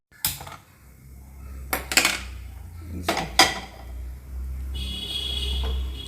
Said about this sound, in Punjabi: ਰੱਖ ਲਿਆ ਫਰਾਈ ਪੈਨ ਉੱਤੇ ਤੇ ਚਾਰ ਚਮਚੇ ਲੈ ਲਏ ਮੈਂ ਵੱਡੇ